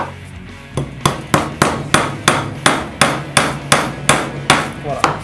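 Steady hammer blows drive a nail into wood with no soap on it, about eleven sharp, loud strikes in an even rhythm, close by and heard alone.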